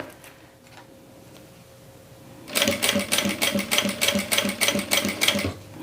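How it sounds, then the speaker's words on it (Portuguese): A sewing machine stitching piping onto a transparent pouch starts up after a quiet pause, then runs in close, rhythmic bursts of rapid mechanical clatter. "Costuro um pouquinho, viro."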